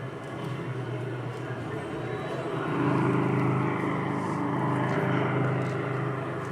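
Lindbergh's heavily fuel-laden NYP monoplane taking off, heard as an old recording: a steady, rough propeller-engine drone that swells louder partway through and holds, with no voices.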